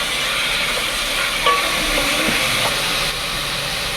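A handful of mint and coriander leaves hits hot oil in a frying pan, giving a steady, bright sizzle with light stirring scrapes, close and continuous.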